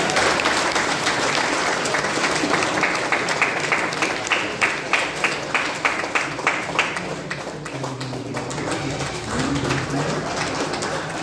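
Guests at Perfect Finance's 35th foundation day celebration clap loudly and steadily, the applause turning into a rhythmic beat before thinning out near the end, while voices carry underneath.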